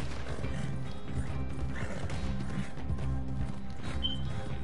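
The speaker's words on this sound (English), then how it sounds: "I stole a horse," A stolen horse gallops through Red Dead Redemption 2 Online, with rhythmic hoofbeats under a dense layer of game ambience and scattered knocks and crashes.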